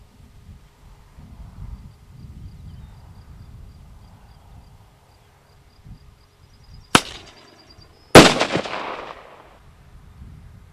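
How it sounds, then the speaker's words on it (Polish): Two sharp explosive bangs from a charge set off on a crop field to scare wild boar go off a second apart after quiet rustling, the second louder with a rumbling tail that fades out. "odpala ten ładunek wybuchowy"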